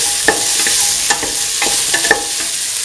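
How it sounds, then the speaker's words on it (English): Lentil and winter melon stew ingredients sautéing in a pan, a loud sizzle broken by several sharp spoon strikes and scrapes in an uneven rhythm, with no voices. "Keep on sauteing."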